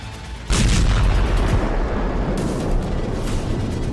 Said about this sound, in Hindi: रात 1 बजे के बाद वेनेजुएला में धमाके शुरू हुए।